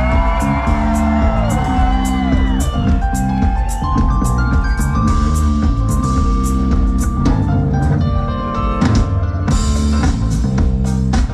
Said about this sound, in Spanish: Grito para Daniel.